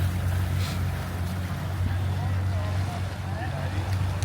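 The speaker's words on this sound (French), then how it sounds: "C'est comme des pirogues. des petits pirogues à moteur." Small motorized canoes pass beneath a bridge, their engines a steady low hum under broad wind and water noise, continuous and fairly loud throughout.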